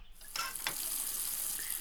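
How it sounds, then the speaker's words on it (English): Ice-cold water running from a washstand tap in a visual novel, a steady hissing stream that starts abruptly with a splash and flows on continuously, close and fairly quiet. "The water from the washstands was ice cold as usual."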